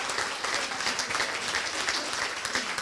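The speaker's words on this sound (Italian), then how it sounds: "il vostro applauso" Audience applause fills a theatre at the close of a stage performance, with steady, dense clapping and no voices over it.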